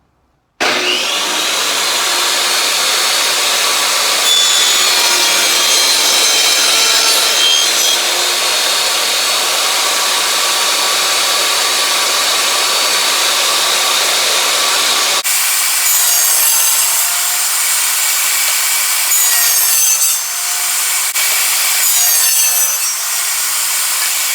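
A saw cuts a dado in wood, running loud and continuous as the blade grinds steadily through the board, with a brief change in pitch midway, no talking.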